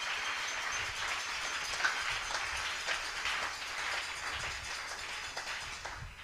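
A church congregation applauds, a steady, fairly soft patter of many hands clapping that carries on evenly throughout with no voices over it.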